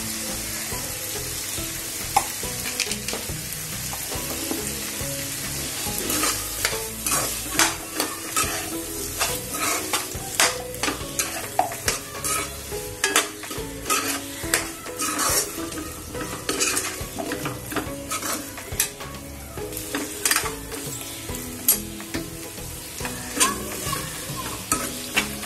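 Peanuts and potatoes being sautéed for a Marathi rassa bhaji, with continuous sizzling and frequent spatula scrapes and clinks against the pan, steady and close throughout.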